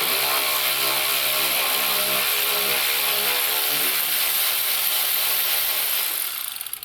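A power tool spinning off a nut on a Corvette C8 with a 13 mm socket on an extension, one loud continuous whirring buzz that runs steadily before winding down with a few rattles at the end.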